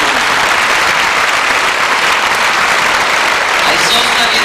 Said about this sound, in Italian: facessimo ancora un grande applauso a loro e a tutti quelli che verranno